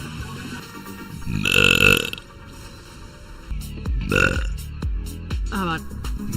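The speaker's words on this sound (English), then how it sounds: "The burp." Two loud, drawn-out burps from someone, one early and one midway, with a voice talking around them and a few shorter guttural noises near the end.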